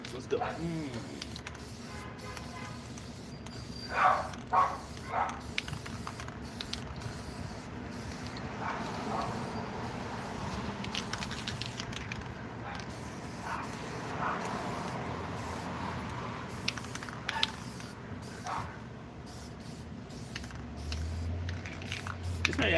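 A spray can lays a third coat of paint on an Alien Queen xenomorph figure made from masking tape, with short hissing bursts of spray heard under nearly constant nearby talking.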